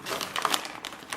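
Light crinkling of a bag of kale chips, close and quiet, a few soft rustling crackles spread over about a second.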